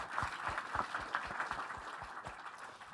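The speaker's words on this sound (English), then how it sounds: "A round of applause for them." Scattered applause from a crowd at a community fundraiser event, individual claps distinct and fairly close, a loose rhythm lasting a few seconds before tapering off.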